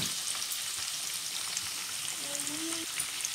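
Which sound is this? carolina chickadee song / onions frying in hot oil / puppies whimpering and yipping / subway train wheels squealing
onions frying in hot oil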